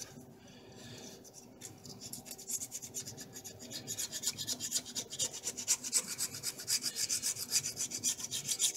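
Scraping old head gasket material off a Chevrolet Equinox engine's mating surfaces, a rasping scrape that starts faint and grows into loud rhythmic back-and-forth strokes, close up with no talking.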